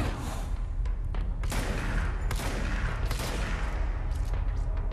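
Dense, continuous gunfire in the video game Control, heavy booming shots and thuds packed close together with a few sharper cracks standing out, loud throughout with no talking.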